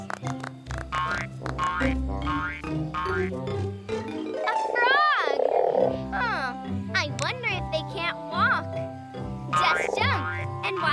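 A voice imitates a frog's croak, with rising and falling squeaky tones over bouncy background music.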